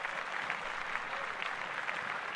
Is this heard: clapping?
yes